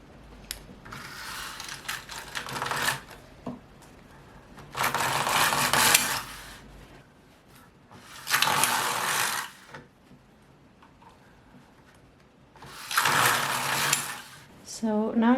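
A domestic knitting machine carriage works rows of yarn in long rattling, ratcheting passes, each lasting a couple of seconds, separated by quieter pauses with soft handling clicks.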